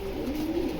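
Pigeons cooing in a single soft, low murmur lasting under a second, steady over faint background noise, sounding like young racing pigeons kept together.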